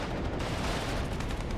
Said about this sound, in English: we're starting to take fire from that AMX-10